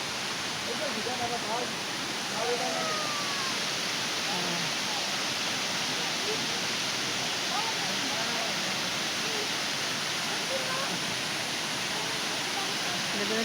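Water rushes steadily at Wawa Dam in Montalban, Rizal, a broad, constant hiss of flowing water with faint higher chirps scattered through it and no pauses.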